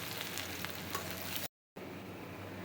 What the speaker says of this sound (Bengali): ফার্স্টে আমরা তেল গরম করে নিচ্ছি, এর মধ্যে পেঁয়াজ কুচি দিয়ে দিব 1 কাপ পরিমাণ